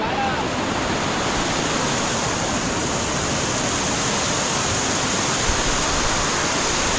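Bandaje Falls, a waterfall dropping from a height, roaring as a loud, steady broadband wash of falling water that fills the whole scene without letup.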